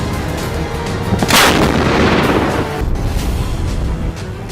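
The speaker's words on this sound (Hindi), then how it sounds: "ये पहला मौका था जब 15 अगस्त पर लाल किले से स्वदेशी तोपों से सलामी दी गई।" Ceremonial gun salute fired from DRDO-developed indigenous Advanced Towed Artillery Gun System howitzers at the Red Fort on 15 August, heard as a loud, close blast that rolls and echoes over continuous crowd and outdoor noise.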